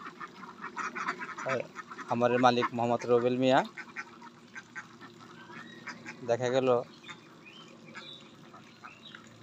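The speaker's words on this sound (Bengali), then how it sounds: "আমরা চলে আসলাম একটি খামারে, হাঁসের খামার" Ducks at a duck farm let out two bursts of loud, rapid quacking, one long and one short, while someone talks steadily throughout.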